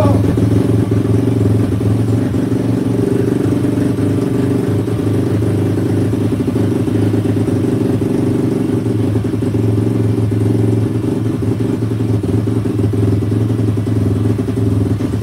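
A Daytona 212 cc engine idles steadily after starting, producing a loud, close, even mechanical rumble with a faint clattering texture that holds without revving for the whole stretch.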